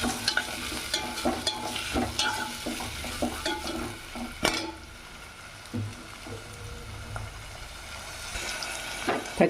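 A large onion frying in a pan while being stirred, with a steady sizzle and repeated scraping and stirring strokes, loud and close, no talking.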